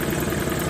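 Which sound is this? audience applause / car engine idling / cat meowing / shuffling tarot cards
car engine idling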